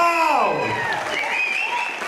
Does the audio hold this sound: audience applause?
yes